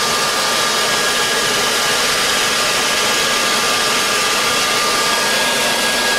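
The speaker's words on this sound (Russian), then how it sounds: "Заработали вентиляторы сразу компрессора." Air compressor cooling fans running while filling a Brocock Commander 5.5 PCP air rifle, a loud, steady, unbroken whooshing whir with no pauses and no voices.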